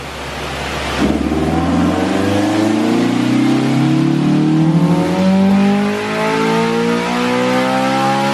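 A Honda Civic Si engine, fitted with spoon ignition wires, revs up hard from idle under test, the loud rising note climbing steadily and holding high before easing off near the end.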